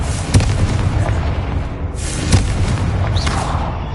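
A Confringo fire-blast spell in Hogwarts Legacy on PS5 goes off as loud, booming explosive bursts. Two sharp blasts are separated by about two seconds, each trailing into a rumbling roar with no talking.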